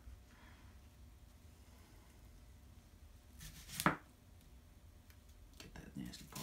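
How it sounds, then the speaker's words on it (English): A knife chops through an onion on a cutting board, one sharp, loud cut standing out near the middle against quiet room tone, with a few softer knocks toward the end. "All right, let me cut this onion here"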